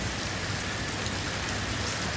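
Heavy monsoon rain pours steadily in rural Gujarat, a dense, continuous hiss of downpour that stays close and unbroken throughout with no voices.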